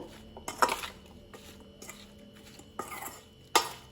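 Raw banana slices being tossed with masala spices in a dish, several close soft scrapes and clinks of utensils against the bowl at irregular intervals with quiet pauses between.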